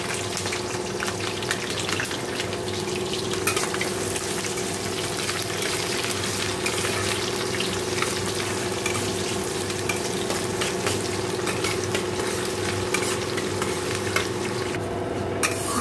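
Onion frying in oil with tempering spices such as dried red chilli in a home kitchen, a constant dense sizzle with a faint steady hum underneath and occasional stirring noises, no talking.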